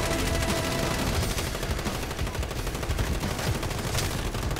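Rapid automatic gunfire in Modern Warfare 2019, a dense, loud, continuous burst of shots filling the whole few seconds at close range with no talking.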